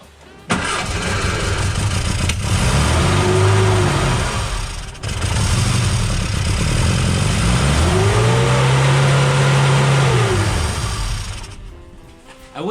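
A 1959 Austin Healey Sprite engine cranks, catches and runs, then revs up and down twice in loud close swells, a short break midway before it fires again and settles.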